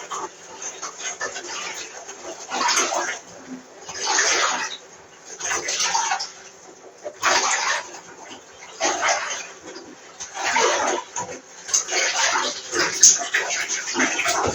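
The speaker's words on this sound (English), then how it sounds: "Now I do swash the water about a little bit to make it a little bit noisier." Water is swashed about in bursts, repeated splashing swirls roughly every one to two seconds, close and moderately loud, with no talking over it.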